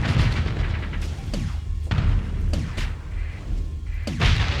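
Missiles fired and exploding in the space combat game Starsector, a rapid series of about six booming blasts and thuds, each with a sharp onset and a rumbling tail, with no speech.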